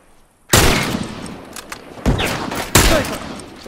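Sniper rifle fire in The Last of Us: three sharp, loud gunshot cracks about a second apart, each with a short echoing tail, close and punchy.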